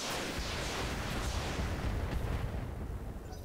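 Mech weapons firing in the RogueTech mod of the BattleTech video game, a dense, loud roar of cannon and missile fire that fades slightly toward the end.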